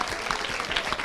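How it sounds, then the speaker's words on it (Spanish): Audience at a Spanish-language television studio production clapping, a brief burst of dense, even applause from a moderate crowd, close and loud. "Un aplauso."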